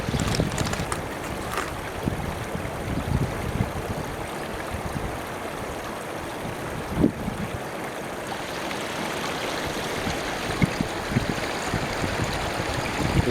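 Santa Fe River water runs steadily through the Don Jose storm drain, a continuous broadband rush and gurgle with a few faint knocks, close and fairly loud, no voices.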